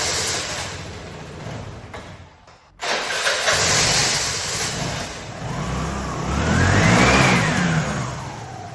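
An old motorcycle with a freshly restored carburetor, new air filter and fresh oil fires up after a brief pause, idles loudly nearby and then revs up in a rising and falling surge.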